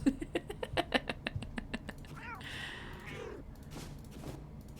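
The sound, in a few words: cats meowing in the video game Finding Cats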